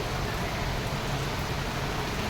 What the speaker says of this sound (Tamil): மழை இப்போ வந்து மழை லைட்டாக பெஞ்சிட்ருக்குது